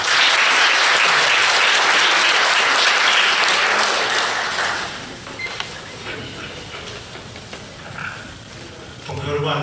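An audience at a peace-unification forum for overseas Koreans claps loudly in a dense burst that gradually thins and fades toward scattered claps, with faint voices underneath.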